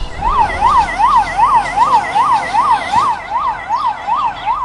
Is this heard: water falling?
no